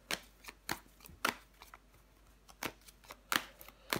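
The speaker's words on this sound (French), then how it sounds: "j'ai déjà mélangé les cartes" Tarot cards being shuffled by hand: a steady series of crisp, close riffling snaps and flutters, repeated several times at an uneven rhythm with no talking.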